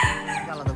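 A brooding hen sitting over her eggs gives two short, low clucks, one at the start and one at the end of a brief, quiet moment.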